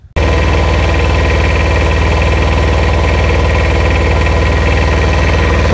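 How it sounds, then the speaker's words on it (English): Tractor engine running close by, a loud, steady idling rumble with a regular low thump that starts abruptly and continues without pause. "So I'm going to put my tractor right in here."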